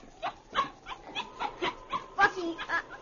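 A dog in a radio drama whimpering and yelping after being kicked, a string of close, high, pitiful whines and short yips in uneven bursts, with speech mixed in around them.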